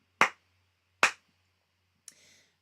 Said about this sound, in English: I'm going to clap when I'm playing crotchets